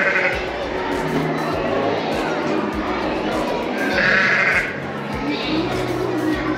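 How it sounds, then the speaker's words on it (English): Dorset sheep bleat at Folly Farm adventure park and zoo. A few nearby bleats rise over a steady outdoor background, with a louder, longer call midway through. "Good choice of sheep."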